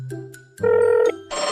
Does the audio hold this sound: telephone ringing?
yes